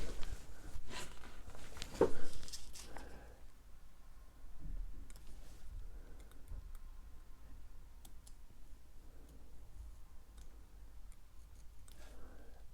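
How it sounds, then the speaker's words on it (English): A brand-new, super-sharp craft knife blade scoring out window outlines on a hobby vehicle model, heard as close, faint clicking and ticking strokes in a steady irregular series with no talk. "I'm simply going to cut out the outline of each window"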